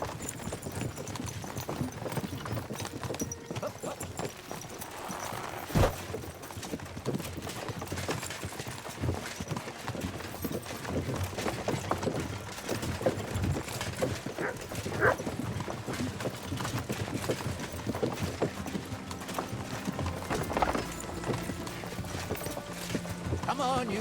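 Horses gallop in Kingdom Come Deliverance II, a steady run of clip-clopping hooves lasting throughout, with voices talking over them and occasional sharper knocks.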